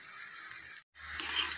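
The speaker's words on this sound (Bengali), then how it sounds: "এগুলো এখন সেম একইভাবে ভেজে নেব।" Banana flower fritters fry in hot oil over a gas flame, giving a steady, close sizzle that briefly cuts out midway, then resumes slightly brighter.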